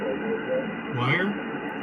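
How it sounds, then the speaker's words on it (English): Steady hiss and crackle of 40-meter amateur radio band static picked up on a wire receive antenna, continuous and fairly quiet, with a faint swept tone passing through midway. "All that extra signal is noise. It's not signal."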